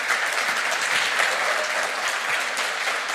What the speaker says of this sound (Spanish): Muy Fuerte el fuerte aplauso.